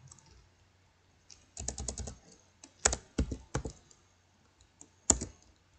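Bursts of typing on a computer keyboard, quick clusters of close, crisp key clicks separated by short pauses, a few louder isolated taps, no voices.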